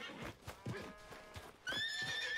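Horse in Red Dead Redemption 2 neighing loudly with a long harmonic whinny near the end, preceded by a series of clip-clop hoof thuds at a steady walking rhythm, close and clear.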